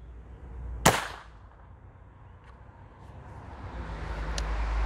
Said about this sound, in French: Donc on va faire un tir vite fait, bien fait, parce que j'ai pas envie que l'arme prenne l'eau.